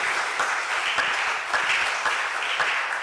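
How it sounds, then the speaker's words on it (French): A congregation applauding loudly during a church worship service, dense steady clapping from many hands throughout with faint voices beneath. "Acclamons très fort notre Seigneur."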